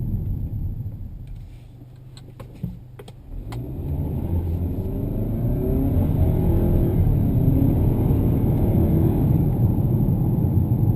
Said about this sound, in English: when you nail it, it has no trouble getting up to 100 kilometers an hour with ease